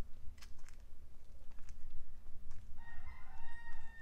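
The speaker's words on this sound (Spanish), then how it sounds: "Los gallos." Roosters crowing outdoors in a rural Dominican hillside setting, a drawn-out cock-a-doodle-doo rising near the end over steady low rumble and scattered bird chirps, moderately distant with no talking.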